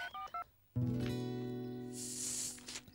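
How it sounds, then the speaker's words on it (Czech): A telephone number is dialed with a few quick keypad tones, followed by a steady ringing or connecting tone that carries on to the end. "A teď zavolám Božkovi, abych zjistila, jak na tom je."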